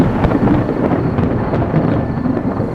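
Thunder from a storm with lightning over a vineyard in spring, a loud sustained rolling rumble with scattered crackles, heard alone.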